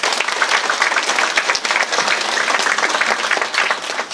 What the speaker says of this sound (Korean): 우리 모두를 위해 힘찬 격려의 박수를 보내주시면 좋겠습니다